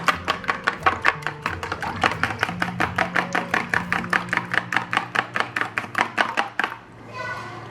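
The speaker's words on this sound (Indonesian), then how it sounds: "Kemudian kocok secara lepas." Batter for fishless pempek is whisked loosely in a bowl, fast regular clacking strokes, about four per second, close and loud, then stopping near the end with a brief rustle.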